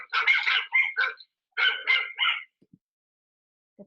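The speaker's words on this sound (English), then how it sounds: "This turned into frenetic barking." A dog barking in quick bursts, several sharp barks in two clusters, close and loud, then a pause with faint sounds.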